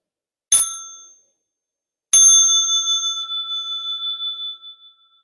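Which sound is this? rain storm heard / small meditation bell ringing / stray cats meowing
small meditation bell ringing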